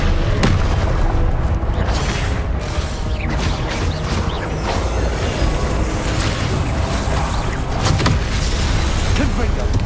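Confringo fire spell explosions in the Hogwarts Legacy video game, repeated booming blasts and crashes amid busy combat noise, with a player talking over them throughout.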